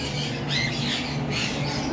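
A breeding pair of cockatiels, one of them sitting on eggs, giving harsh repeated squawks over a continuous hum, close and fairly loud with no talking.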